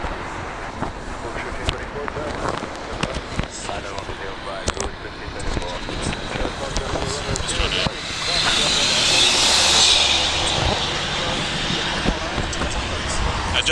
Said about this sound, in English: So we just saw Air Canada 739 to San Francisco take off on an A321.